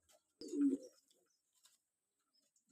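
A big, lively, healthy pigeon gives a single close coo, then the loft falls mostly quiet with only faint, scattered bird sounds.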